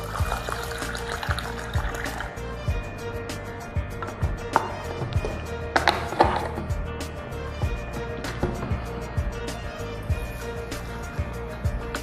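Rice being rinsed in a bowl with Strong Kangen water, a steady close-up slosh and trickle of liquid with small clicks of grains and bowl, continuous for the whole stretch.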